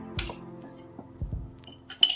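Clean glass jars set out for filling with quince chutney give a few light, bright clinks and knocks, spaced irregularly and close by, ending in a sharper ring.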